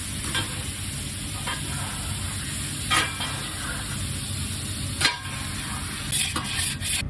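Cold water deglazing the hot pan after cooking chicken, a steady close sizzle with a few brief bursts of scraping as the stuck bits are loosened, alone without talk.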